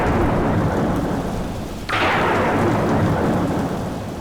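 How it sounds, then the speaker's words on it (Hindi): Heavy rain pours steadily as a broadband roar throughout, with a sudden loud thunder crack and rumble near the middle that keeps the downpour swelling afterward. "भरी बरसात भी हो रही है"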